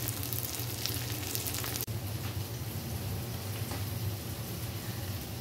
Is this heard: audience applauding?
no